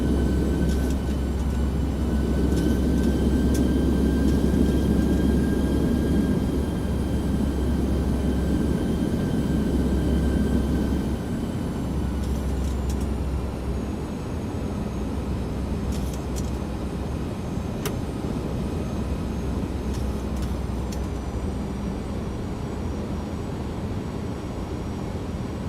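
Boeing 737-900ER engines in the X-Plane flight simulator spooling up as throttle is advanced: a steady, loud broadband roar with low rumble and a faint high whine, easing slightly partway through and holding constant.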